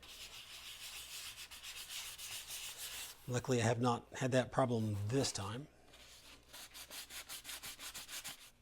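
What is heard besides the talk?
light hand sanding of a helmet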